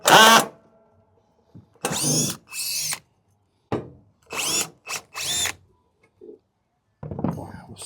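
A power drill backs screws out of a trailer's wooden deck boards in loud, close bursts of whining rotation, each lasting about half a second to a second, separated by short silences.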